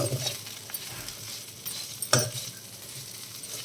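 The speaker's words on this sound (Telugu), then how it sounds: "ఇప్పుడు బెండకాయలు ఆనియన్స్ జీడిపప్పు ఇవన్నీ వేసేసుకొని ఒకసారి కలుపుకుందాం హైలో పెట్టి ఒక టూ మినిట్స్ ఇలా ఫ్రై చేసుకుందాం" Okra, onions and cashews stir-frying in a pan on high heat, a continuous close sizzle broken by spatula stirs and a sharp clatter against the pan midway.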